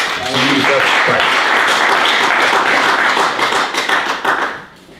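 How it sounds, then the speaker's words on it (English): A church homegroup congregation claps hands during a worship service, loud, close and continuous for several seconds, then trails off to silence, with voices faintly mixed into the clapping. "Can we clap our hands to God for Jesus Christ?"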